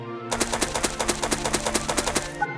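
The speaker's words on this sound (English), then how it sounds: "Footsteps. Grass." Video game footsteps on grass from a sound test, a rapid even patter of soft crunchy steps, about fifteen in quick succession, close and distinct, then stopping.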